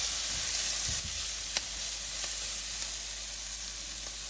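Spices frying with okra, salt and other ingredients in a pan, a steady close hiss and sizzle throughout with a few faint stirring ticks and no talk.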